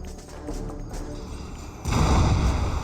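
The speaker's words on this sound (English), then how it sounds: "Good bombing run there." Bombing-run explosions in the Red Alert 3 strategy game, with a steady battle rumble that swells into a loud, sustained broadband roar of blasts partway through.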